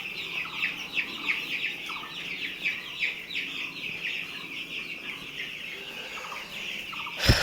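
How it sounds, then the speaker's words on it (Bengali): Five-day-old chicks in a brooding house cheep and peep in rapid, overlapping high calls, a busy near chorus that continues without pause and swells briefly at the end. "আজকে 5 দিন বয়স মুরগির।"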